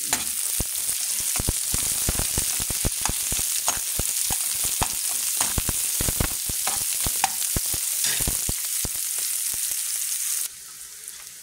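Lots of chopped onion and garlic sizzling and frying in a hot pan for ginisang tuna, a dense steady crackle broken by frequent stirring scrapes, close and continuous until the sizzle drops away at the very end.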